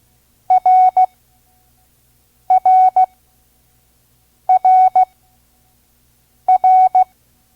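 Morse code letter R sent at five words per minute, each dot-dash-dot group a short, long and short pure beep, repeated four times with even gaps of silence between.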